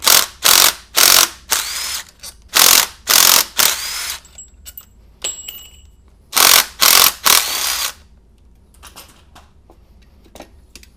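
Ratchet loosening alternator bolts on a 2004 MINI Cooper S R53 supercharged engine gives loud, close bursts of rapid clicking in two groups, several strokes each, with a pause between and faint tool taps at the end.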